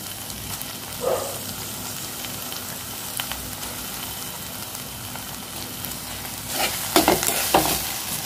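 Paneer cubes stirred into a frying tomato and spinach mixture for palak paneer, a steady close sizzle with scraping spoon strokes and a louder clatter of stirring near the end, no talking.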